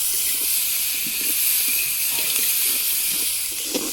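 Onion, garlic, ginger and cumin paste frying in hot oil, a steady bright hiss with soft intermittent bubbling and light knocks, close and continuous, no voices.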